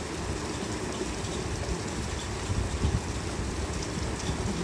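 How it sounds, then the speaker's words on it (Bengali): Morning rain falls steadily over Noakhali, a dense even hiss with no distinct drops standing out and a slight swell partway through. "এরপরে এখন আবারও বৃষ্টি হচ্ছে।"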